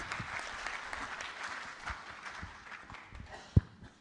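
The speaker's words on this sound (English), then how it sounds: "Applause, please." An audience at a tech conference sponsors session applauds as the next presenter is introduced, a soft, fairly distant patter of clapping that thins out toward the end, with one sharp close thump near the finish.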